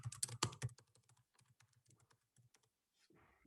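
Rapid keystrokes on a computer keyboard, a dense burst of close clicks at the start and then sparser, irregular taps, ending with a soft rustle.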